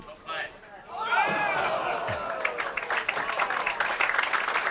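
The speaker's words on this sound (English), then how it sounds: "he gets a nice round of applause from the crowd" Crowd applause at a senior masters bowling tournament stepladder final, a steady round of clapping that swells after a brief pause and carries on under a commentator's voice.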